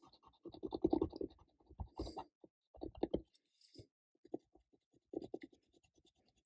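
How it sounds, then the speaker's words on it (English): Quick scratchy strokes of an Old Olive watercolor pencil coloring leaves on paper, coming in close bursts of rapid scribbling separated by short pauses, with no talking. "I'm now going to color the leaves"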